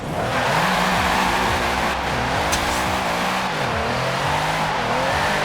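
A 2009 Mercedes SL65 AMG drifting in Forza Horizon 4, engine roaring loud and steady at high revs with pitch swinging up and down and tires squealing throughout.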